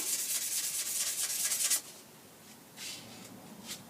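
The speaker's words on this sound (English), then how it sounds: "it takes a bit of rub with the sandpaper too" Sandpaper rubbed over an aluminium walking stick, a steady close scratchy rasp for nearly two seconds, then quieter intermittent strokes with short pauses.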